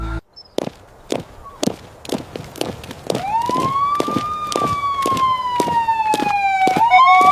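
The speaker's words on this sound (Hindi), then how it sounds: "अब ये सायरन की आवाज, लगता है पूरी फोर्स यहां आ रही है।" A police siren wails in long rising and falling sweeps, loud and close, over a steady series of sharp percussive bangs.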